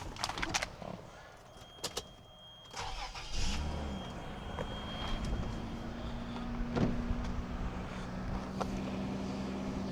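A 1997 Toyota Land Cruiser Collector's Edition starts from cold after a few clicks and rattles: a brief crank catches, then the engine settles into a steady, low idle hum that carries on to the end.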